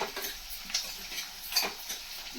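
Garlic paste being stirred around a pan, giving soft scraping strokes over a low background sizzle, steady and close with no voices.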